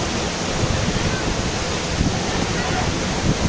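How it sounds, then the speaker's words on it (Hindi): Godhas waterfall in Nuapada, Odisha, roars in a loud, steady wash of broadband water noise heard close from below the hill, with no break or change through the whole stretch. "ये पहाड़ के नीचे से कुछ ऐसे लगते झरना है"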